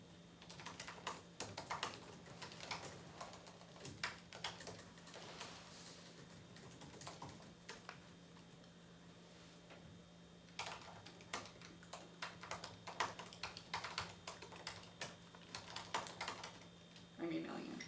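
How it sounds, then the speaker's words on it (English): Typing on a computer keyboard while writing an email during a sustainability committee meeting, irregular bursts of quiet clicking keystrokes with pauses, over a steady low room hum. "I'm emailing Andrea, that's why I'm like typing strangely"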